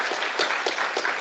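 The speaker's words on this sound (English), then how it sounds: "Maybe a round of applause for the questions" A round of applause from a seminar audience at a scientific software demo, steady mid-distance clapping filling the short stretch without talk.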